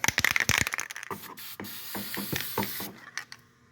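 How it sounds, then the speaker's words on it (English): Several short hissing bursts from a can of CRC spray onto a car battery's negative terminal post, followed by clicks and light handling noises from work nearby on a Hyundai Tucson. "I'm gonna go ahead and spray the negative post with some CRC"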